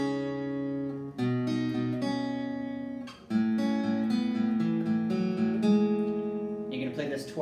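An electric guitar plays the intro riff of a song, with sustained, ringing chords changing every second or so, played alone and up close at moderate volume.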